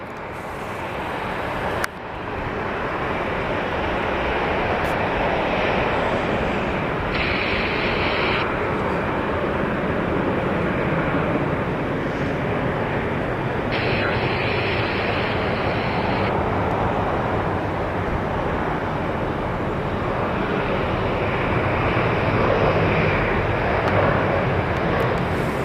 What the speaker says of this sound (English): let's get to our ERJ-175 and Honoring Those Who Serve, operated by Horizon Air